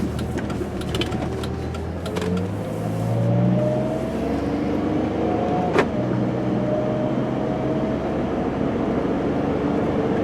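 A 2007 Chrysler Town & Country Limited long-wheelbase minivan accelerates steadily to about 55 mph, its engine note rising under constant road and wind noise from inside the cabin, with one brief bump midway.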